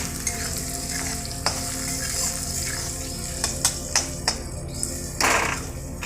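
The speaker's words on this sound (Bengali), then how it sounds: "পেঁয়াজটা সুন্দর ভাজা হয়ে গেছে।" Onions fry in a pan with ground cumin, coriander, chilli, ginger and garlic paste, a constant close sizzle broken by a few sharp spatula taps and a brief louder burst near the end.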